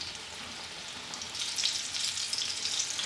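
Fried green tomatoes sizzle in a pan, a steady bright hiss of hot oil crackling that swells a little louder midway and keeps a fine popping texture, heard close with no talking.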